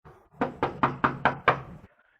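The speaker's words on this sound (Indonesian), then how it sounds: "Ya, ketok lagi." Six firm knocks on a door land in an even rhythm, about a fifth of a second apart, close and fairly loud, with a brief room echo after each strike and quiet before and after.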